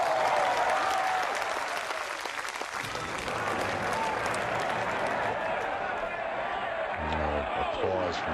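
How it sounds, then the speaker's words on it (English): Golf spectators at the 15th green of a Masters tournament broadcast applaud steadily in a dense, continuous wash of clapping from a sizable crowd, with a voice briefly audible beneath it. "Applause from patrons at 15."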